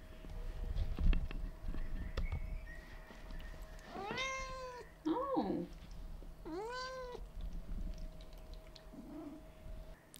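A house cat cries to be let out into the garden, giving three clear, drawn-out meows a second or so apart over quiet room noise.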